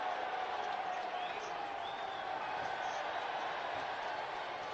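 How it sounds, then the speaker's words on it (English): Football crowd at a Wolves versus West Ham match cheering a referee's yellow card booking, a dense steady roar of many voices filling the stadium, continuous and fairly loud throughout. "It's the first cheer that Keith Stroud's actually got this afternoon"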